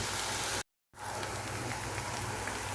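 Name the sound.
shrimp and bitter gourd frying in oil over low heat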